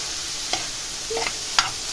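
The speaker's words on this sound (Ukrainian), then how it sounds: "Цибульку підсмажила" Onion frying in a pan gives a steady bright sizzle, with a few scraping stirs of a utensil, close and clear with no voices.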